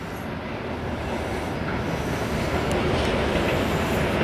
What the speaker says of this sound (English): I can see the train.